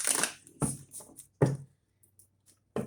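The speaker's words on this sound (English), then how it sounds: "Two more shuffles, Aquarius." Tarot cards are shuffled in several brisk riffling bursts separated by short pauses, close up with no talking.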